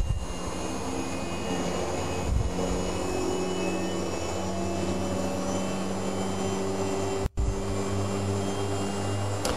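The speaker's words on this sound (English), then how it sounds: "both the DP and the MB reach their full speed and the full pumping capacity is attained" Dry vacuum pump with mechanical booster running at full speed, a loud, steady whine and roar with tonal hum that is interrupted by a single brief dropout near the end.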